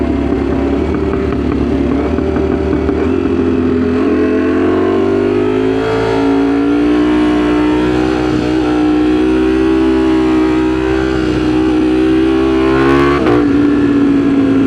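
Ducati Streetfighter V4 motorcycle accelerating hard through its gears with a quick shifter, a loud, close, sustained engine note climbing in pitch, with a sharp shift near the end and no talking.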